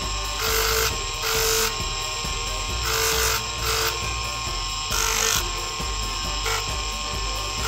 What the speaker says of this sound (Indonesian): Selanjutnya kita amplas nomor 360